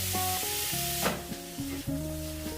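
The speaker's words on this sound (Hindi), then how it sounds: "पैन में हम यहाँ पे 300 ग्राम मेरे पास ये खोया है, जिसे मैंने इस तरह से हाथ से तोड़ दिया है। तो ये डालेंगे इसे और इसे भूनेंगे अच्छे से।" Crumbled khoya sizzles steadily in a hot pan while being stirred, a continuous frying hiss running under a melodic line of background music.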